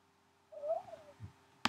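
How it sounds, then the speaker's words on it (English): Short owl hoot sound effect played in Scratch, a single soft hooting call followed by a low murmur and a sharp click at the end, faint and alone. "play owl sound"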